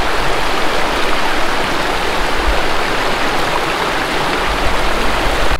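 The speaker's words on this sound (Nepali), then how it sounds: "त्यति गहिरो चाहिँ छैन यो खोला हेर्नुहोस्" A shallow river in Kalimpong rushes steadily over stones, a close, loud and even wash of flowing water that holds constant throughout with no voices.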